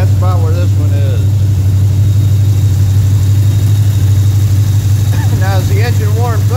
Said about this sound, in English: you want this thing to idle right around, you don't want it screaming, you want it around 1400